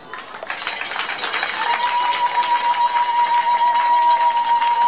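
A large crowd applauds and cheers at a church school inauguration ceremony in Congo, dense clapping building and swelling steadily, with a sustained whistle or tone running through it.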